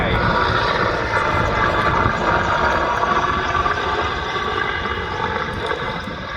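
A Czech Mi-24 Hind helicopter flying a display at an airshow, a broad continuous roar of engine and rotor noise at steady loudness that fades slightly toward the end, with no voices over it.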